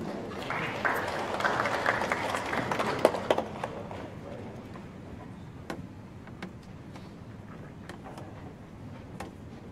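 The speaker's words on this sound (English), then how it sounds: "please give a round of applause for Bapak Junaidi" An audience applauds at a university sustainability ranking ceremony (UI GreenMetric), a dense round of clapping that swells in the first few seconds and then thins to scattered claps, with some voices murmuring underneath.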